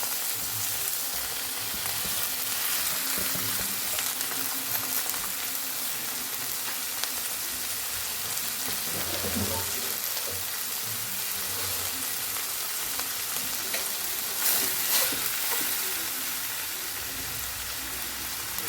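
Leafy greens sauté in a pan over a medium flame, giving a steady, even sizzle that runs the whole time with slight stirring shifts and no speech.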